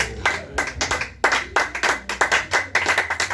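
A church congregation claps together to acclaim Jesus, many hands striking in a fast, uneven rhythm that builds into loud, continuous group clapping.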